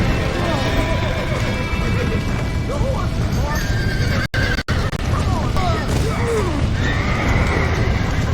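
Horse in the Red Dead Redemption video game, neighing and whinnying while hooves clip-clop at a gallop, mixed into a loud, busy game soundtrack with shouting voices.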